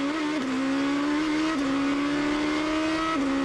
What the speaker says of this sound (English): you can hear the car change gear despite the revs from the engine